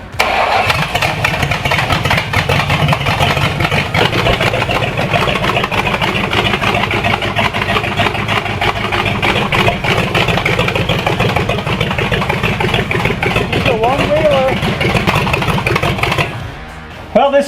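A Mopar V8 swapped into a Datsun runs loud and close, a steady rumbling idle with a raspy exhaust note that holds throughout before cutting off near the end.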